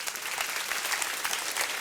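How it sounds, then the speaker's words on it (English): An audience at a prize giving day claps steadily, a continuous wash of many hands at moderate distance with no pause. "Can you clap for me?"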